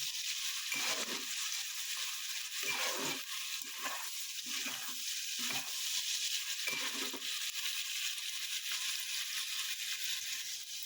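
A steady, loud sizzle of carrots and green beans frying in a pan, broken by repeated scraping strokes as they are stirred.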